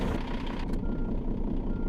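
Truck engine idling just before being switched off, a steady low diesel rumble with a brief higher mechanical burst near the start.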